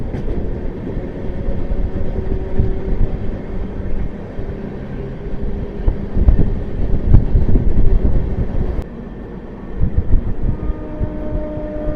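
Inside the Prashanti Express (18463) on the run toward Eluru, a loud, continuous rumble of wheels and carriage shakes with rattling clatter and wind, briefly dipping before the roar returns.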